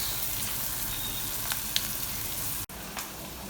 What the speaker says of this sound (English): let's cook the onions until they are golden brown